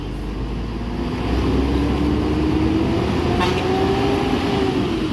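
A Sultan Class Ambassador coach pulls away from a busy terminal in the morning. Its engine gives a steady low rumble that swells, and a rising drone runs through it, with background crowd and traffic noise. No one speaks.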